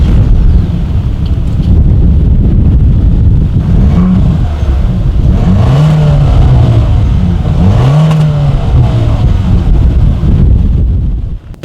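A 2019 Ford Escape with dual exhaust outlets and chrome tips revs loudly up close, its engine note rising and falling in several surges over a steady idle, with wind buffeting the microphone.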